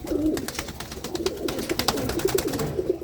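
An old pigeon of a high-flying breed coos in soft, repeated low throaty phrases, fairly close, over a background of scattered clicks and rustling, with no voices.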